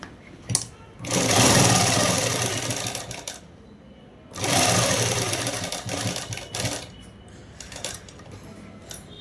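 A sewing machine stitches a handmade shirt in two long, loud runs of rapid mechanical whirring, separated by a brief pause, with light handling clicks between bursts.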